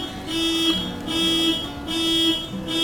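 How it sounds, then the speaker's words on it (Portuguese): A car alarm sounds out on the street, a loud repeating two-tone wail cycling about four times in steady rhythm, with no one speaking over it. "é um carro aqui na rua disparando o alarme"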